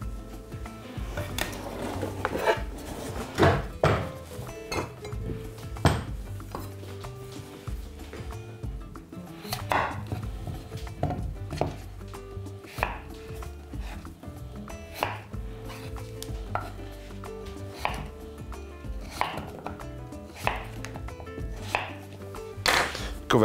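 A knife chops potatoes on a cutting board in irregular bursts of sharp, close strikes with brief pauses between, and no voices.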